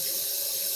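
Hot water runs steadily from a kitchen tap into a sink for washing a pan, making a continuous broadband rush with no talk.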